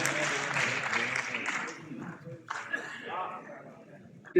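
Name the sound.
audience applause at a mushaira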